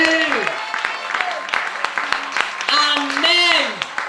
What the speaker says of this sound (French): Est-ce que quelqu'un acclame ce merveilleux Jésus?